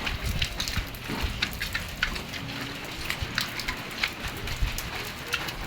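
Heavy rain drums steadily on a vehicle roof from inside, a dense unbroken hiss with scattered sharper drops, loud and constant throughout.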